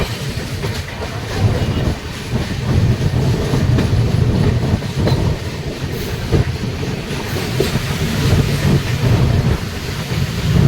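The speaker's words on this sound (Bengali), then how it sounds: "ট্রেন ফারাক্কা ব্যারেজ ক্রস করবে।" A passenger express train crossing the Farakka Barrage, with a loud continuous rumble, rhythmic wheel clatter over the rails and gusting wind buffeting the microphone, heard from on board.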